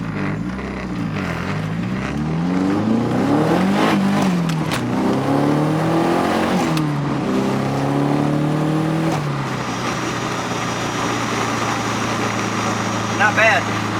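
Nissan 240SX engine revving and accelerating hard on a shakedown drive after repairs, rising and falling through several gear pulls up close, then settling into a steadier drone, with speech-like sounds mixed in.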